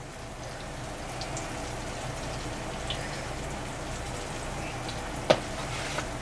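Flour-dredged, kefir-marinated chicken pieces fry in a pan of oil, a soft, continuous bubbling sizzle with scattered pops and one sharper clatter near the end.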